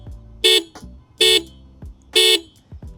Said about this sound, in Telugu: చాలా లౌడ్ హార్న్ ప్రొవైడ్ చేస్తున్నారు.